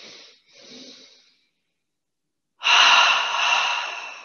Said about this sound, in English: Release your breathing.